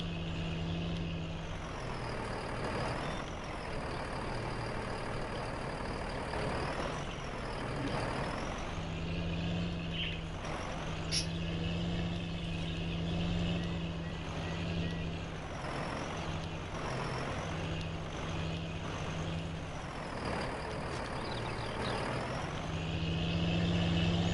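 A Fendt 900 tractor in a farming video game, rated at 200 horsepower and pulling a 12-meter plow, drones steadily up close, with brief hisses and faint high beeps over the running engine.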